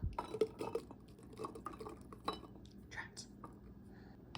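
Whole peppers and garlic cloves go into a glass jar for sweet and spicy pickled garlic, with quiet clinks and knocks against the glass and soft handling noises, faint and close.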